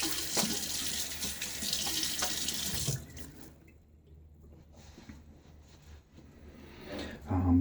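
A bathroom tap runs water into a sink for about three seconds as a face is wetted before shaving, a close, steady rush that stops abruptly, followed by quieter splashing and handling sounds.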